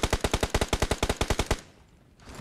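Rapid machine-gun fire from a shooting video game, about fifteen sharp evenly spaced shots in a fast burst lasting a second and a half, then sudden quiet with faint background noise.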